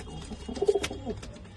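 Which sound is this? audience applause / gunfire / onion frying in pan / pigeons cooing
pigeons cooing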